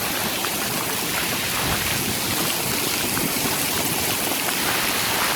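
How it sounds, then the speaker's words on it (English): Hailstones pelt down outdoors in a dense, steady clatter, a loud continuous hiss of many impacts with no talking. "Like I've never seen hail like this."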